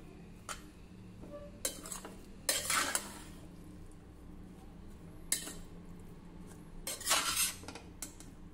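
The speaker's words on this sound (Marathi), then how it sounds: "मिक्स करू." A spoon stirs soft sole bhat, a rice dish with green pigeon peas, after chopped coriander goes in, giving intermittent scraping and clinking bursts against the pot between quieter pauses.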